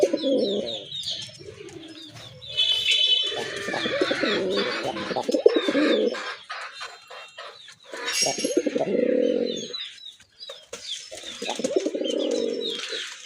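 Domestic pigeons of a native breed coo in a loft, bursts of close, repeated throaty calls with short pauses between them, alongside occasional rustling and wing sounds.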